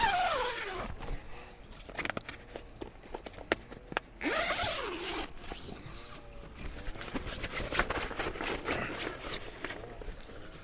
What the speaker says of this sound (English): then I could unzip the fly screens.